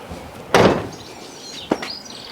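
The boot lid of a crash-damaged 2014 Fiat 500 slams shut with one solid, close thud, followed about a second later by a smaller knock, with faint birdsong in the background.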